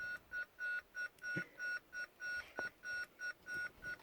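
A broken toy mega blaster beeps like an alarm, giving out a steady run of about fourteen evenly spaced electronic tones that repeat in a quick regular rhythm, close and fairly loud, with no talking over them.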